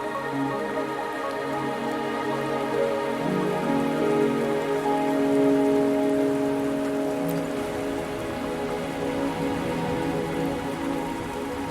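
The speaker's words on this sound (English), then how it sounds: "Are you trapped here by the rain?" Rain in the video game Wuthering Waves falls steadily and evenly on surfaces, a dense continuous patter with a faint tonal hum of game music beneath it and no voices.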